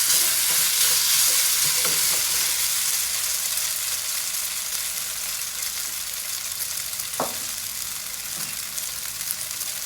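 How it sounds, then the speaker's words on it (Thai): Glass noodles with egg stir-fried in a pan with onion and tomato just added. A steady, bright sizzle runs throughout, with occasional scrapes and taps of the spatula, close and fairly loud. "เราก็เติมน ี่ครับหอมใหญ่กับมะเขือเทศลงไป ผัดให้เข้ากันครับ"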